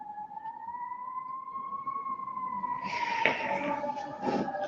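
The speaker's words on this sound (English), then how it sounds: "that's a fire truck." A fire truck siren wails in a long, steady tone, moderately distant, with some background clatter toward the end.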